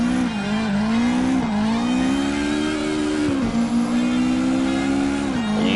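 A car drifting in CarX Drifting, its engine holding a loud sustained tone that rises and dips with throttle while tires squeal continuously through the slide, close and loud with no talk.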